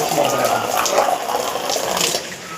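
Water runs from a small pipe onto buffaloes in hot weather, a steady close splashing wash that fills the whole stretch.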